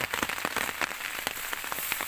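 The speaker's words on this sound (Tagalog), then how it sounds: "dumali na naman ang ulan" Heavy rain pouring down outdoors near a tree on a windy day: steady, dense patter of drops hitting surfaces, loud and close, with scattered sharper splats and no voices.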